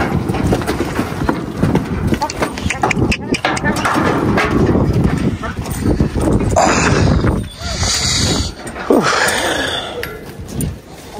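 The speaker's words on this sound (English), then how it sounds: "All right, Bowen, get your horse out of there." Horse sounds with hoof clatter and snorting mixed under a voice calling out on a ranch, busy and close, with a brief whinny-like rise near the end.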